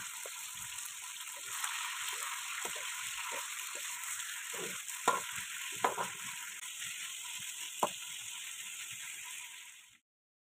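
Spiced chicken meat frying in hot oil gives a steady, close hiss and crackle, with scattered clinks and taps of a utensil stirring against the pan throughout, then a sudden cutoff.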